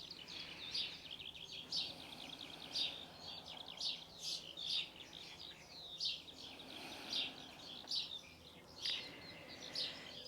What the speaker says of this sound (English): You can hear the bees and the birds.